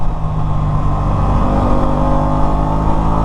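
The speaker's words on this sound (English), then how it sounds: "I kind of like the sound of this bike." A 2024 Aprilia RS660 Tribute sport motorcycle accelerates, its engine giving a loud, steady, deep drone that holds strong and close throughout, with no voices.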